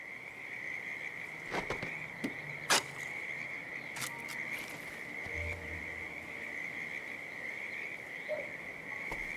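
Frogs croak near a creek in the stealth game Hitman 3, set at Whittleton Creek, a few short calls rising over a steady high insect drone across the ambience.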